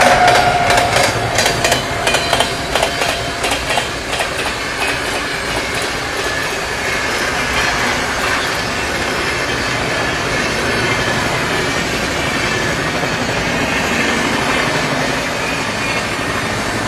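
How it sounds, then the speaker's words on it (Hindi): An express train overtaking on a parallel track beside a moving train, with loud continuous rumbling roar, rhythmic clickety-clack of wheels on rail joints and squealing wheels, close and sustained throughout, no talking. "ये ट्रेन भी पैरेलल में ओवरटेक कर रही है अपने को"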